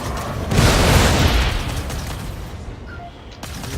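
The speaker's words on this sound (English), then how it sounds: "Fire missile. Missile away." Missile launch and blast in a flight combat video game: a loud, broad whooshing boom swells after half a second and holds for about a second, then trails into a sustained roaring rumble.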